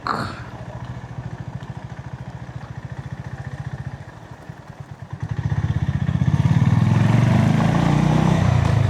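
A motorcycle ridden in second gear with the clutch held, its engine droning steadily and close, then rising louder as it revs up over the last few seconds.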